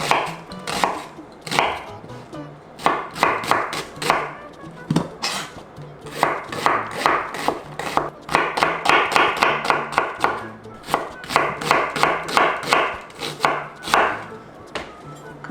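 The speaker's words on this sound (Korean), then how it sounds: "양파 200g 칼집 넣어서 다져줄게요" A knife rapidly mincing scored onion on a cutting board, with quick bursts of crisp, evenly spaced chops broken by short pauses, close and loud with no talk.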